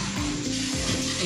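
Hot oil sizzling in a pan while cooking a chickpea curry, a steady close hiss with a faint scrape of stirring.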